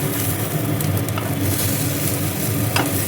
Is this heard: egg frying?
yes